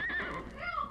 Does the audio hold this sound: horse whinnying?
yes